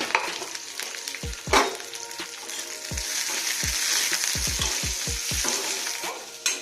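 Chopped onions go into hot oil with bay leaves and sizzle loudly and continuously, close up, while a utensil scrapes and stirs the pan in repeated short strokes.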